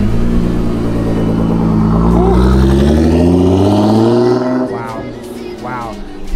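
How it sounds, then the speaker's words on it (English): A loud Nissan GT-R sports car engine roars and revs steadily, its pitch climbing, then drops away sharply near the end, leaving quieter background with brief chirps. "that car is just like stupid loud."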